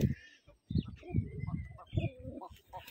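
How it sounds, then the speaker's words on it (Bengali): A Giribaz pigeon coos inside a loft on a Rajshahi pigeon farm, giving several low, throaty calls in short bursts separated by brief pauses. "যে কবুতরটা দেখেন ডাকছে, এটা গিরিবাস কবুতর"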